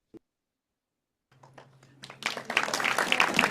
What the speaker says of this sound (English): Raucous applause.